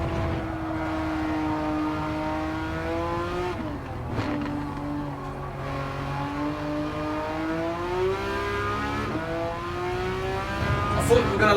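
Porsche race car engine in Gran Turismo 7, a steady sustained drone with rising and falling pitch as it shifts through gears, a loud continuous racing whine with a brief dip in the middle.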